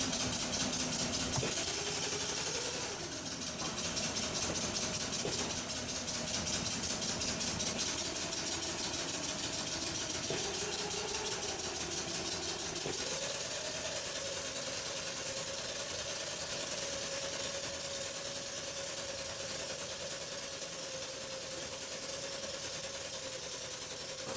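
A benchtop hybrid engine runs steadily while its speed ramps from 150 to 350 RPM, a continuous mechanical hum whose pitch glides upward in steps and then settles at a higher steady tone.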